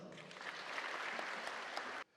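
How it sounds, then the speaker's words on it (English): Audience applause at the first annual Women and Girls in STEM conference in Gambia: a steady, full round of many hands clapping for about two seconds, then stopping abruptly. "Ladies and gentlemen, a round of applause."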